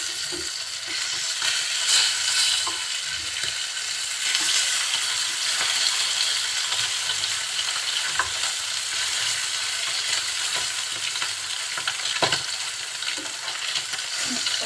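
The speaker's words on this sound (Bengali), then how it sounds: "কিছুক্ষণ পরে মাছগুলো আমি উল্টে দিচ্ছি" Rui fish fry in hot oil in a pan with a steady, dense sizzle throughout, with a few sharper crackles and spits popping through.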